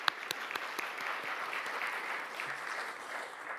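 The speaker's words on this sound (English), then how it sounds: "so round of applause" Steady applause from an audience at a book-industry group's micro-presentation session, dense even clapping sustained evenly throughout with no voices over it.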